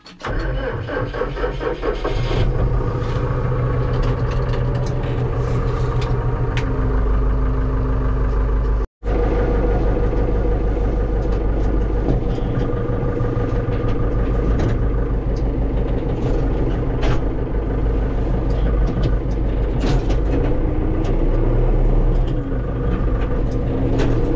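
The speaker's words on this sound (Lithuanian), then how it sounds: "traktorius ilgai šil" A tractor engine warming up at a construction site, cranking and catching near the start, then a loud, close, steady idle with a rough low rumble that cuts out for an instant and resumes, running alone.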